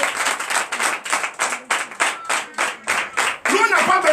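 A church congregation at a Sunday service in Comè, Benin claps in acclamation, a loud steady rhythm of about two claps per second with voices mixed in, ending in a swell of cheering.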